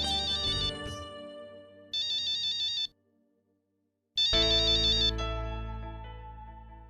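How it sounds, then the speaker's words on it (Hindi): An incoming-call ringtone on a phone plays a bright electronic melody in loud bursts, cutting off briefly with a short silent gap before resuming and fading out. "कब से तुम लोगों को फोन लगा रहा हूँ, लेकिन तुम्हारा और अर्चना का फोन अनरीचेबल"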